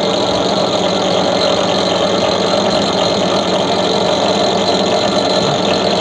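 An H&L HL-8813 13mm bench drill running at speed on its motor and pulleys, a loud, steady whirring hum with a constant mechanical rattle.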